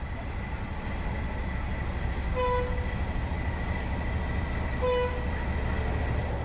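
A GE SDD-20 diesel locomotive hauling a TAZARA passenger train in Tanzania, a steady rumbling drone of the engine and rolling wagons with two short horn toots, one in the middle and one near the end.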